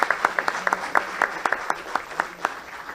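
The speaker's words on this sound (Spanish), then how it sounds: "les pido un aplauso para todo el equipo de participación ciudadana" An audience at an event on democracy and Peruvian independence applauds the citizen participation team. The clapping is sparse, individual hands slapping in quick irregular bursts at moderate distance, with faint chatter underneath.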